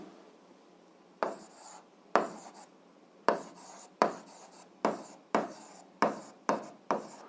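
Pen or chalk writing out a math equation for an algebra exercise, about nine sharp separate strokes in an irregular rhythm, each a quick scratchy tap fading off, close and clear with no talking.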